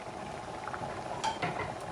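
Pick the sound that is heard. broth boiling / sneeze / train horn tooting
broth boiling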